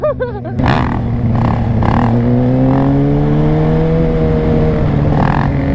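A Kawasaki Ninja 636 motorcycle engine revs close and loud, its pitch climbing steadily in a sustained rising whine after a brief opening blip.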